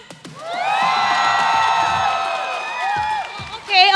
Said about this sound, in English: Pwede bang mag-cheer ang mga Falcons APBREN?